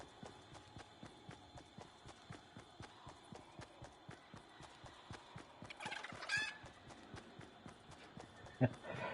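Chicken sound in the Fortnite video game: a rapid, regular run of clucks and pattering beats close up, with a brief louder flurry midway and a sharp burst near the end.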